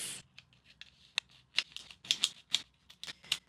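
Scissors trim a piece of craft vinyl decal for a dog treat jar, a rapid uneven series of crisp close snips and clicks.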